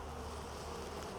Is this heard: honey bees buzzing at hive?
yes